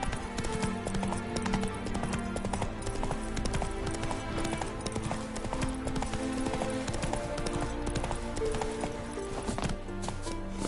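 Roach, the horse in The Witcher 3, gallops steadily with a continuous rhythmic clip-clop of hooves, close and prominent, under game music and ambient sound.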